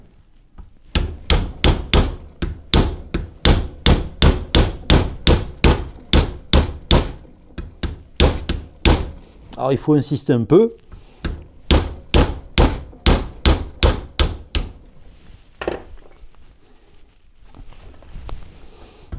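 Repeated hammer blows driving a wooden block against a brake pad to push it out of its old brake shoe holder on vintage brakes, a steady run of sharp, loud strikes with a brief pause and short speech partway through.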